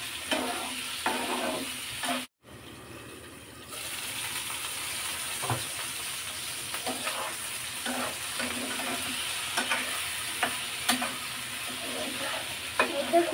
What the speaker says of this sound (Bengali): এখন আলু দিয়ে সুন্দর করে আমি আলু আছে চিকেনটাকে ভাজা ভাজা করে নিব